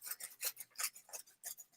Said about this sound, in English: then you're going to cut 1/2 inch to 1 inch pieces